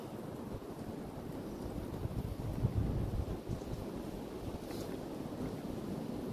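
Cold wind blows steadily across an outdoor spot among trees, a continuous low rumbling roar with gusty buffeting on the microphone, loud and constant throughout with no voices.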